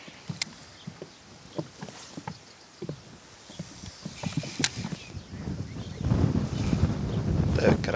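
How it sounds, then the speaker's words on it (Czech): Strong crosswind buffets an outdoor microphone beside water during a fishing competition on the Ebro, growing into a loud, steady rumble of gusts in the last seconds after quieter, intermittent knocks and thumps. "Fouká to hrozně ze strany."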